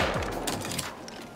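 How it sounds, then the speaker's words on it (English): A Thompson submachine gun fires in the survival game Rust, giving a quick, close run of sharp shots that fade within about a second. "So I'm just going to use a Thompson here."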